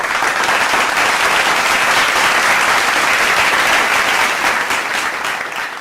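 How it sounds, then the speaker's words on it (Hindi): An audience at an outdoor election carnival event in Shimla claps and applauds loudly and continuously, a dense wash of many hands that eases slightly toward the end. "जोरदार तालियों से स्वागत कीजिए"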